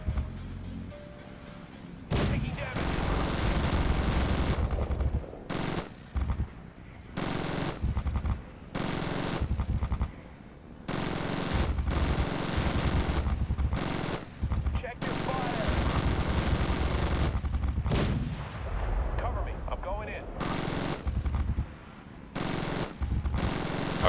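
Rapid machine-gun and artillery fire from a gunship in the Zombie Gunship Survival game, loud sustained bursts separated by brief gaps, with voices talking over parts of it.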